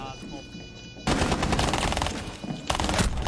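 Rapid automatic SMG-12 fire in the video game Rainbow Six Siege, two sustained bursts of fast shots, loud and close, after a quieter stretch of game ambience.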